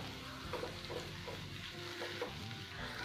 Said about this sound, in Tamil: இது மாதிரி கொஞ்சம் கைவிடாமல் மிக்ஸ் பண்ணிகிட்டே இருக்கணும்